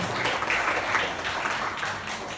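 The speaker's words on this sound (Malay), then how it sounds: "Berikan tepukan kepada pemenang." Schoolchildren on a school trip applaud the competition winners, a dense, even burst of clapping filling the whole moment at moderate loudness.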